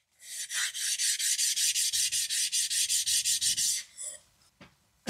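Rapid, rhythmic rasping strokes as a titanium framelock folding knife part is rubbed back and forth on a flat lap plate to remove a burr, about twenty quick passes, then a few scrapes and silence.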